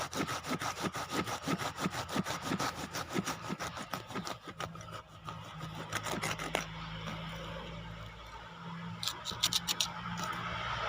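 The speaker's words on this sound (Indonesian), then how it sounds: "Kita tinggal lakukan penggergajiannya, jangan langsung mepet ke atas." A hand saw cuts through the root of a kimeng bonsai tree, with close, rhythmic back-and-forth rasping strokes that give way to a steadier, duller grind near the end.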